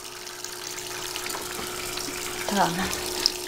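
Water runs steadily from a tap while clothes are being washed, a soft continuous hiss with a brief splash near the end and a voice speaking briefly over it.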